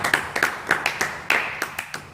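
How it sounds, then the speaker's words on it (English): A handful of sharp, separate claps at a political gathering for the NDC government, about ten in a loose, uneven rhythm, fairly close and with no talking. "Clap for the NDC government"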